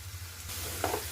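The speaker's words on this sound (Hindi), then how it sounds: "उलट पलट करते हुए आप अरबी को अच्छे से फ्राई कर लें" Taro root (arbi) frying in a pan on low to medium flame, a brief close hiss of sizzling with one soft scrape as the pieces are turned.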